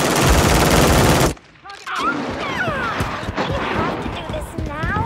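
Loud, continuous automatic gunfire in Call of Duty MW3 multiplayer rattles up close for over a second, then cuts out, leaving a quieter battlefield with chirps and a voice.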